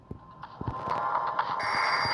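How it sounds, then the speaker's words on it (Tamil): A phone rings in a pizza delivery video game, a steady electronic tone starting about two-thirds through and holding over low background noise and a few soft thumps. "ஃபோன் வரும், இருங்க"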